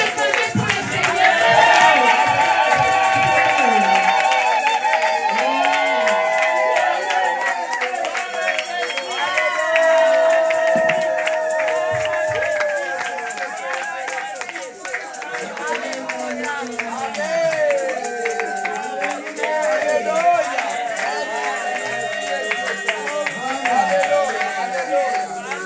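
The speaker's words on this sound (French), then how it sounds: "Est-ce que tu peux acclamer pour le Seigneur?" A church congregation cheers and praises the Lord, with many voices shouting and calling out together over scattered clapping. The swelling crowd noise runs continuously, loud and close, easing slightly midway before rising again.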